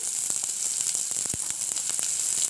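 Chopped onions frying in hot oil in a pan for a village-style egg curry give a steady close sizzle with scattered crackles and pops throughout, no talking.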